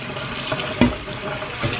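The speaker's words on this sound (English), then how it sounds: "it's regular cold water from the faucet" Cold water runs from a kitchen faucet while pupusas are being made, a steady close splashing stream with a brief louder spatter near the middle.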